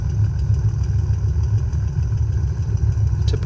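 A simulated Carenado Cessna 210 piston engine in the X-Plane 11 flight simulator gives a steady, loud low drone with a rough, pulsing throb and no talking over it.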